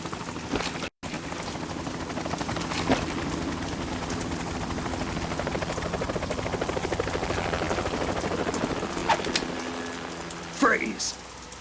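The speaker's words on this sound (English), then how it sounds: "You will be on the helicopter out of here now." A helicopter in the PS2 game Metal Gear Solid 2: Sons of Liberty gives a constant rhythmic rotor chop and engine drone, with a voice briefly over it near the end.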